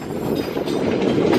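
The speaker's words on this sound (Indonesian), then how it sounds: "KA Ciremai akhirnya berangkat." The KA Ciremai passenger train, carrying a dining car and executive carriages, rumbles as it departs Bandung Station, a steady close rolling roar with faint wheel noise building slightly.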